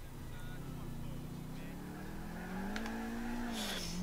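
A car driven in the video game Grand Theft Auto IV, its engine droning steadily and rising slowly in pitch as it accelerates, close and continuous for about four seconds, with a brief hiss near the end.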